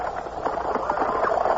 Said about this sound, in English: a fiery black horse pulling an open chaise caught up to me from behind